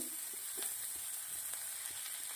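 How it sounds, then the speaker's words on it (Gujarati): Vegetables roasting in butter in a pan for Maggi pasta: a faint, steady sizzle with light scattered crackles and occasional soft stirring taps, heard alone. "2 મિનિટ જેવું બટરના અંદર શાકભાજીને શેકી લેવાના છે."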